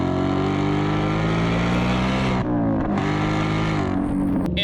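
A 2026 Ford Mustang RTR Spec 5, an 870-horsepower car with an aftermarket exhaust, revs loud and close, a sustained engine roar that dips briefly near the middle and then swells again, with no talk.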